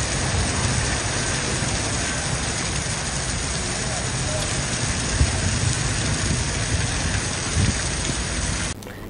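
Rain falls steadily on a flooded street near a cinema, a dense, even hiss that holds at the same level throughout before cutting off at the end.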